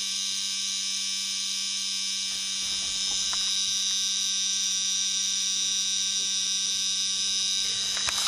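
A small buzzer relay in a Hendershot generator circuit running on a 1.5 V battery and driving two LEDs hums in a steady, continuous high-pitched electrical buzz, with a few faint clicks and rustles beneath it.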